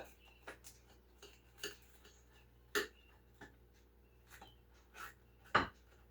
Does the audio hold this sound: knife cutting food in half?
yes